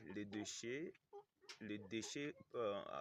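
Chickens cluck and squawk close by in a small coop, short busy bursts with brief gaps between the calls.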